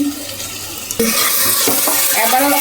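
Meat sautés with spices in a hot pan, a loud sizzle swelling suddenly as it goes in and then holding steady, with utensil scrapes and stirring close by and no talk.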